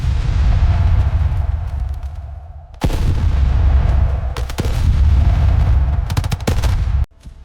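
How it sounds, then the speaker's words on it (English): Artillery bombardment from the Iran-Iraq War rumbles in heavy, continuous low booms and blasts, punctuated by sharp cracking impacts and brief gaps of near silence between volleys. "Artillery became one of the defining sounds of the Iran-Iraq War."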